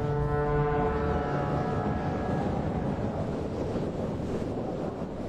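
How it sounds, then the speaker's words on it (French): Strong wind over the gulf off Dubai roars steadily and loudly, a dense broadband rush with a low tonal drone at the start. "Le vent qui souffle dans le golfe est si violent"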